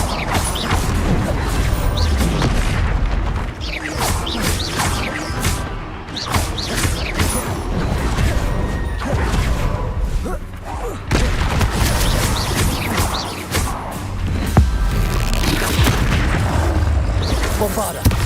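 Repeated spell blasts and crashing booms from Hogwarts Legacy combat, dense bursts of explosive impacts and clattering debris one after another, loud and busy with a voice shouting among them.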